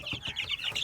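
On a chicken farm, hens and chicks cluck and peep in a quick, close, moderately loud burst lasting under a second, with no voices.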